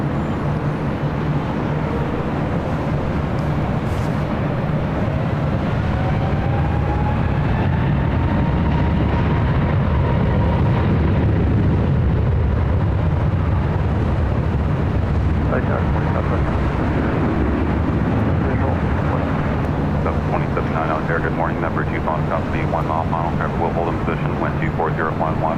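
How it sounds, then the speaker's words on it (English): A Delta Airbus A321neo on its arrival from Portland comes in to land on runway 24 left at LAX as a loud, steady jet roar fills the whole stretch, with voices talking over it. "Coming in from Portland, this flight heading to Detroit, Michigan. Flight 885 in this A321 Neo."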